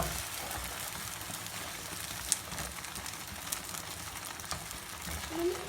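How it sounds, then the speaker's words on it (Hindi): An egg fries in oil in a pan before being flipped for a street-food boti burger, giving a steady, soft sizzle throughout with a couple of faint spatula clicks. "हमारा अंडा एक तरफ पक गया। अब इसके हम साइड उल्ट देंगे।"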